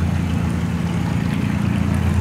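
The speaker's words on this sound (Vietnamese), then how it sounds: "Đây có chiếc ghe chàm đang chạy lên nha." A Vietnamese ghe chàm boat motors upriver near a narrow bend, giving off a loud, steady, low engine drone that lasts the whole time with no other sounds.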